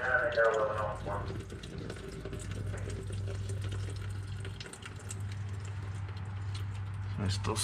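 Engine oil drains from a 2018 Volvo L90H wheel loader during its 500-hour service, a steady trickling stream of liquid running for several seconds over a low background hum, with faint voices nearby.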